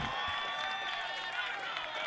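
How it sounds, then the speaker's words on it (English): Crowd at a high school boys lacrosse game between New Canaan and Iona Prep, cheering in a faint, sustained roar heard from a distance. "Hear the excitement from the crowd."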